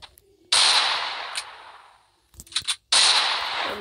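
Desert Eagle pistol shots ring out in the mobile shooter Free Fire Max, two loud sharp reports with a short burst of smaller clicks and pops between them, each shot trailing off.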